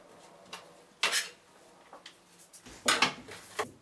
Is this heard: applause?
no